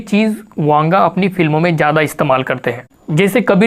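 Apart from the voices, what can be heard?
No distinct noise like a dog, phone or traffic.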